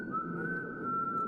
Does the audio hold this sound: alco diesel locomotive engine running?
no